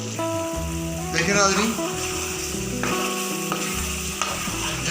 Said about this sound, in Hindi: तो अच्छे तरीके से इसकी फ्राई करेंगे।